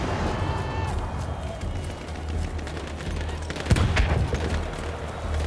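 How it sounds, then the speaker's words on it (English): Gunfire in Battlefield 1 runs through a chaotic battle, with shots and a close crack under general combat noise, while a voice speaks over it. "So what the fuck is shooting me?"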